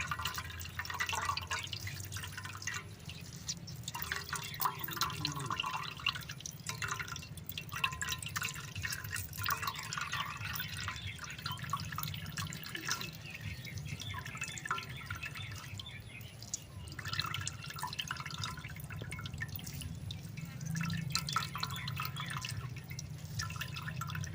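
Juice from ripe mango pulp drips steadily into a container, a continuous wet patter over low background hum, with faint bird calls in the distance and no talking.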